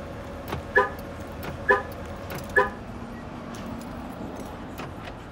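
A 2015 GMC Sierra's remote start is shut off with the factory remote, giving three short, evenly spaced chirps about a second apart over a low, steady background hum.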